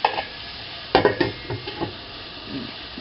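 A spoon stirring food cooking in a pan for lunch or dinner, a few short scraping and clinking strokes over a faint sizzle, near and fairly quiet.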